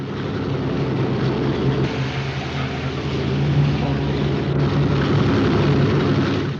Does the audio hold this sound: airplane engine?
yes